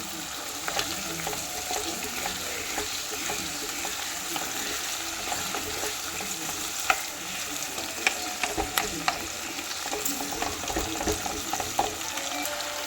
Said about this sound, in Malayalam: ഉള്ളി ഒരു ചുവന്ന കളർ വരുന്നവരെ ചെറുതായിട്ടൊന്ന് വഴറ്റിയെടുക്കുക.